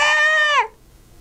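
A man imitates a goat with one sustained, nasal bleat that holds steady and then drops off, voiced alone and close up during a truth-or-dare game.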